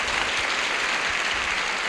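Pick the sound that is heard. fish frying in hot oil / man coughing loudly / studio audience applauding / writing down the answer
studio audience applauding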